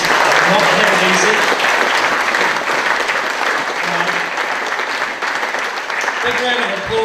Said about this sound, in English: Big round of applause for our judges.